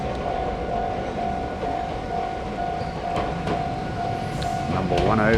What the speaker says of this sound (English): Here comes one of the little trains.